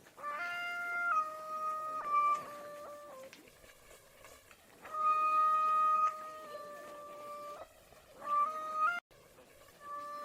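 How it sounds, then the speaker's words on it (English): Two cats yowl and meow back and forth in an auto-tuned catfight, their cries pitched into steady held musical notes in bursts, with short gaps between phrases. "It's actually like 2 minutes of these cats just fucking meowing at each other."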